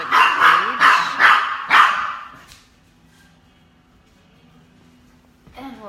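A dog barks loudly and close, four rapid barks in a quick rhythm, then the room goes quiet apart from a faint background hum before a brief noise at the end.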